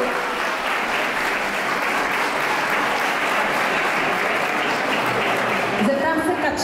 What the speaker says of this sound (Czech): já si myslím, že to zaslouží potlesk.